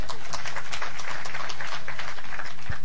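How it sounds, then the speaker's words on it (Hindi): A brief round of clapping from a classroom group of students, a short, dense patter of hands lasting a couple of seconds. "तालियां इनके लिए।"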